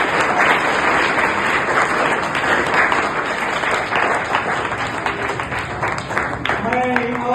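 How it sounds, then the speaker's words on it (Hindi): A school audience in Bijapur, Karnataka gives sustained applause for teachers, a dense, loud wash of clapping from many hands that runs throughout, with a voice briefly audible near the end. "इन सभी टीचरों के लिए आप जोरदार तालियां बजाएं"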